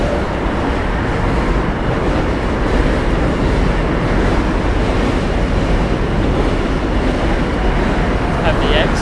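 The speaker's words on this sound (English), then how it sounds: "J train coming through." A New York City J subway train passes on the route from Williamsburg, making a loud, continuous rumbling roar that fills the whole stretch without a break.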